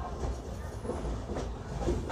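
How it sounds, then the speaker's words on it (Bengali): Passenger train rolling into Pathankot station on a Jammu-bound journey, a low, muffled rumble heard from inside the carriage with faint rhythmic clatter, quiet and steady. "আমাদের ট্রেন এখন পাঠানকোটে পৌঁছে গেছে।"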